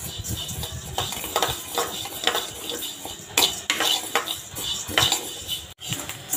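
Rice dry-fries in a pan while a metal utensil stirs it, producing irregular scraping, rattling and clinking strokes close up, with a continuous granular rustle between them.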